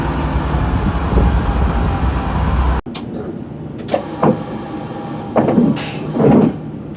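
A train pulling out of Amersham station on the Metropolitan line through the Chiltern Hills, with steady loud rumble for the first few seconds, then a sudden drop to quieter running with occasional clanks and squeals.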